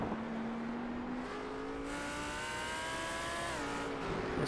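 Porsche race car in the iRacing sim at Fuji on a dry line, its engine droning steadily close up with rising pitch sweeps through the gears and a brief shift dip, no voices.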